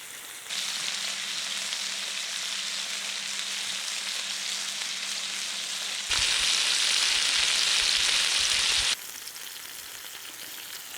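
Pork cutlets fry in a cast iron pan on a wood-fired pot belly stove, giving a loud, continuous sizzle that swells brighter for a few seconds before easing back.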